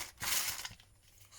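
Plastic packaging from an AliExpress sewing-supplies order crinkles and tears as it is opened, a brief, close burst of rustling followed by quieter handling.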